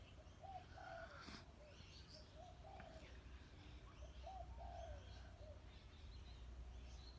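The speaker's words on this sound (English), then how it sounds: "Hear that bird?" A bird calls outdoors in the morning, soft repeated cooing phrases spread across several seconds, faint and distant over steady background noise.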